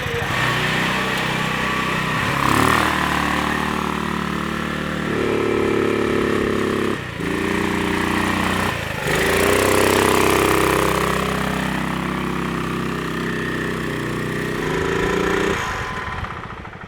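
A 420cc Polaris 4WD ATV engine runs continuously at close range, its pitch rising and falling as it revs repeatedly, with a few brief dips.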